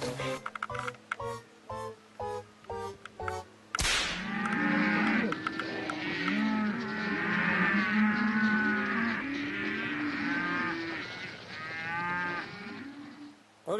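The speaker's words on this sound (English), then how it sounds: "What, you going to scare the cows?" Several cows moo loudly and close by, long overlapping bellowing calls that run for about ten seconds after a few short clicking sounds at the start.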